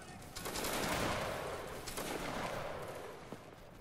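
Line infantry volley fire in a Napoleonic-era video game battle, Bavarian and French troops against Prussia: a dense, ragged crackle of many muskets rolling together for several seconds, loud and sustained before fading.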